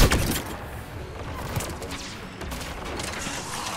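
Gunfire from an odd weapon in Mass Effect 3 during a battle against Geth, a dense burst of shots and thuds opening loud then continuing as a rough, steady barrage of game combat noise.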